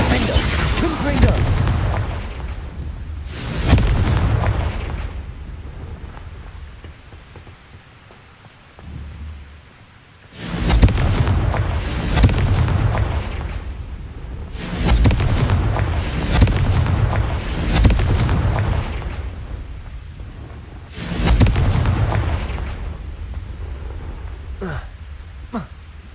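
Spell blasts and explosions from Incendio and Confringo casting in the Hogwarts Legacy video game, arriving as several loud booming bursts in clusters with fiery rumbling tails and short quieter gaps between.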